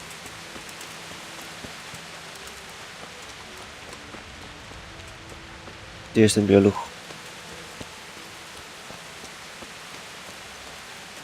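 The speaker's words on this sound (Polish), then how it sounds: "Tutaj ciągle pada" Soft, steady rainfall hisses in the background throughout in the video game Kingdom Come: Deliverance, with a brief burst of someone speaking partway through.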